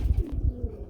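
Black pigeons at a seller's stall give a low, close throaty coo with soft rhythmic pulses over about a second, then it fades to quiet.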